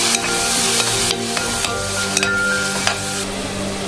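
Ginger, shallots and tomato sauté in hot oil with a close, steady sizzle, punctuated by light scraping and tapping as a spoon stirs the pan.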